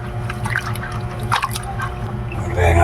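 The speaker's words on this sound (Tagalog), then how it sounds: "Huhugasan ko muna bago lagyan ng mainit na tubig." Corn grits being washed by hand in water before cooking, with liquid sloshing and dripping in a steady stream of splashes; a voice speaks over it at times.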